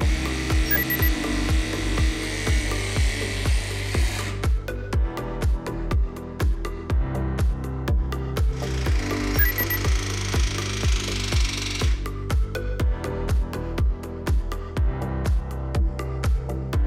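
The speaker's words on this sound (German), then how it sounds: "Es wird mit 4 unterschiedlichen passenden Werkzeugen von Klauke verpresst." A Klauke hydraulic press tool crimps aluminium conductors with a fast, regular train of mechanical pump strokes, close and steady, and two longer bursts of hissing whir as the pressing proceeds.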